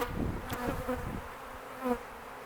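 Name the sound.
honey bees buzzing during beehive inspection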